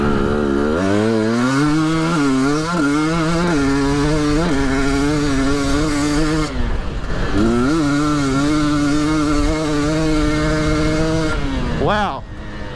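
Husqvarna TE300 dirt bike engine working through a slippery turn, close and loud, its revs rising and falling in sweeping waves, dipping briefly midway before surging again, with a voice talking.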